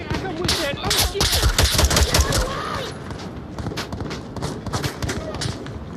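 Heavy automatic gunfire in a video game, rapid loud bursts up close that ease off partway, with voices talking over the shooting.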